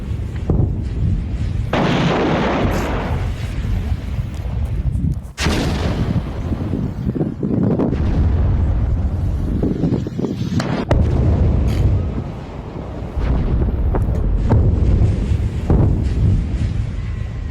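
Heavy, sustained booming and rumbling from an Israeli strike on Tartus, Syria, loud and continuous with repeated blasts and wind-buffeted roar, no talking.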